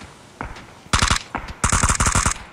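Automatic gunfire in the battle royale game PUBG: two sharp, loud bursts of rapid shots, each a tight rattling string of reports, separated by a brief gap, with isolated single shots around them.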